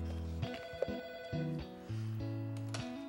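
An electronic ringtone plays a stepped melodic pattern of sustained tones, repeating a few notes in sequence, clear and close, with no voices.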